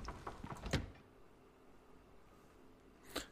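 A door opening in the survival video game The Long Dark, heard as a faint creak and rattle near the start followed by quiet ambience, then a brief second thud at the end, with no voices.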